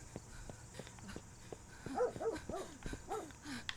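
A dog barks repeatedly inside the horror video game Remothered: Tormented Fathers, a run of fairly loud, close yelps and barks over the game's low ambient drone and footsteps.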